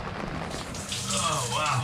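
Rain falls steadily on a boat in a continuous broadband patter, with a faint low rumble underneath that grows slightly louder toward the end.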